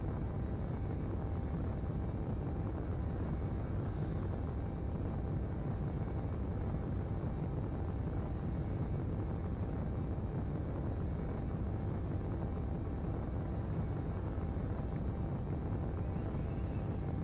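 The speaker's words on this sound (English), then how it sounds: "this kind of feels wrong that there's these engine noises right now" Spacecraft engines in the video game Space Engineers produce a steady, dense low rumble and roar, constant and unbroken throughout with no talking.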